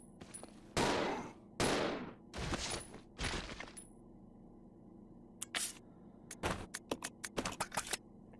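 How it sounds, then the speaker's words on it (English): Handgun fire in the video game Resident Evil 0 HD Remaster: several heavy, loud shots spaced about a second apart, then a quicker run of sharp, clipped cracks over a low background hum. "As soon as you step in, just Rebecca will automatically aim, just start firing."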